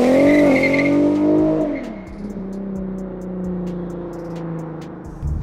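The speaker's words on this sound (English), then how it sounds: "I feel like I can hear both tires chirping." An Infiniti Q50 fitted with a limited-slip differential accelerates on a wet road, its engine revving loudly and then easing off, with brief tire chirps and squeals under the engine note.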